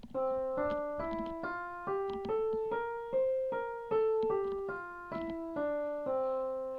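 A melody in the C Mixolydian mode moves stepwise up and back down in evenly spaced plucked notes, each decaying before the next, played clearly with no voices.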